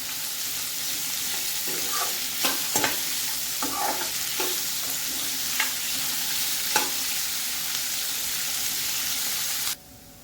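Onion frying on a high gas flame, a continuous bright sizzle broken by several crisp spatula stirs and knocks against the pan, cutting off abruptly near the end.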